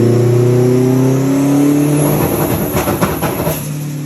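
A project car on a dyno, its engine holding a loud steady drone, then rising and revving harder with rough pulsing exhaust toward the end, close and alone.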